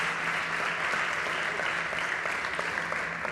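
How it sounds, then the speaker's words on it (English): A conference audience applauds a startup team at a startup competition, a steady dense wash of clapping that holds evenly throughout, moderately distant and without speech. "Big applause for the team of Brave Corporation."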